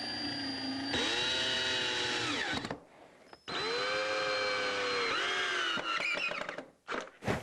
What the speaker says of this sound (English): I'm going to come in and put some more screws in to make sure it's going to stay together.